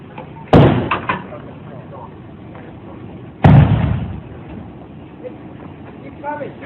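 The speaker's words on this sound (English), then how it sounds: "They sounded like someone trying to batter down the door." Two heavy booms land a few seconds apart, each a loud thudding impact like a door being battered, with background voices between.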